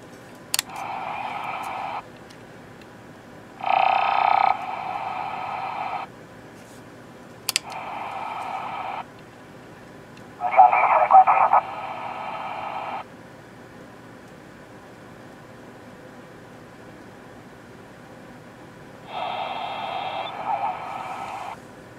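A LesComm 959 radio receiver with an RFX350 squelch-scans, its hiss bursting open in short bands of noisy, garbled signal for one to two seconds at a time, separated by quiet stretches and sharp clicks as the squelch closes.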